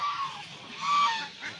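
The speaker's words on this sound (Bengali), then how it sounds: "রাজাহাঁস, রাজাহাঁস, কত রাজাহাঁস" Geese on the grounds of the Murshidpur Pak Darbar Sharif shrine give a run of nasal honks, several calls overlapping at moderate distance with no talking over them.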